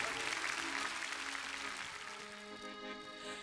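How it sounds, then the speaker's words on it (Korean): Applause and cheering from an audience at a Korean trot music event, loud at first and then fading over a few seconds as music tones rise beneath it. "손바닥이 바스러지도록 박수 한번 쳐주세요"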